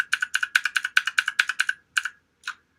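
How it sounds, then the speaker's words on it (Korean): Computer keyboard keys are tapped for a text-resizing shortcut, Shift and Alt held while E is pressed, in office document editing. A quick run of about a dozen crisp, close clicks is followed by two slower taps, with no voice. "Shift, Alt는 누른 상태이고 E만 클릭을 톡톡톡톡 해주세요"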